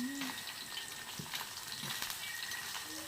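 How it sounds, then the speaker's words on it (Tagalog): Small pieces of sweet potato fries sizzle in hot oil in a pan, a steady close crackle and hiss with occasional stirring clinks. "nagpainit na ako ng mantika and then nilagay ko na siya"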